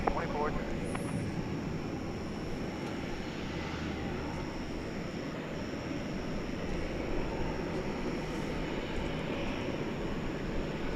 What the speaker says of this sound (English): American Airlines Flight 154, a 7879 Dreamliner, is off to London Heathrow